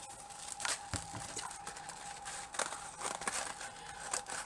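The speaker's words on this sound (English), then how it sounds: "So I'm just going to cut a piece, about 8 inches long." Scissors cut through crepe paper for a handmade doll, with soft crinkling and small snips scattered across a few seconds, faint and close.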